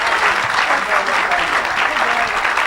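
A church congregation applauds, a dense steady clapping that fills the whole short stretch, with voices mixed into the crowd.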